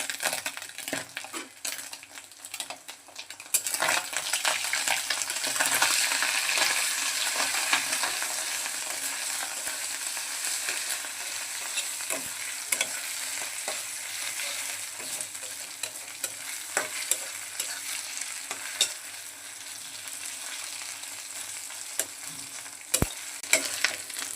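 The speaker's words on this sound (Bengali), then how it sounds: "ডিমগুলো হালকা ভাজা হয়ে গেছে" Singi fish roe with salt and turmeric sizzles and fries in a pan while being stirred, a steady crackling hiss broken by repeated scrapes and clicks of a utensil, close and alone.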